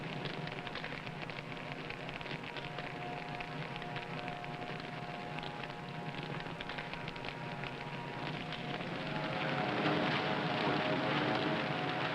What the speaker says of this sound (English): The creeping fire maintains its steady pace, burning through the thick undergrowth and gnawing at the roots of trees.